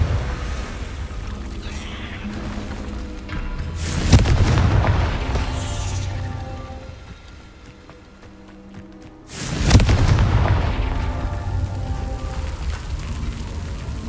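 Two heavy Confringo blasting-spell explosions in Hogwarts Legacy go off several seconds apart, each a sudden loud boom with a rolling rumble that slowly decays into a steady low background roar.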